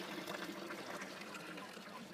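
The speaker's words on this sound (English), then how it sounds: "Oh, water fountain." Water trickles quietly from a drinking fountain in Rome into a bottle being filled, a soft continuous pouring sound at low volume with no one talking.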